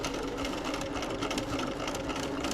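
A sewing machine stitches together table runner seams, a steady, close, fast mechanical whir and needle chatter running continuously without pause.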